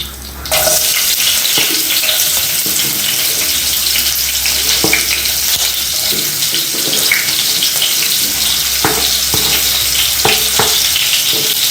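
Boiled liver frying in a pan for a Ugandan-style dish, giving a loud, steady sizzle throughout with occasional sharper crackles and faint clinks, and no talking.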